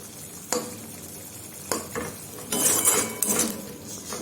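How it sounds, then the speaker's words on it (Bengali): Masala spices frying and being stirred in a pan for an egg curry, with a steady sizzle and scraping stirs, spoon clinks against the pan at intervals and louder bursts of sizzling toward the end. "সমস্ত রকম মশলা দিয়ে এবার মশলাটা ভালো করে কষিয়ে নেব।"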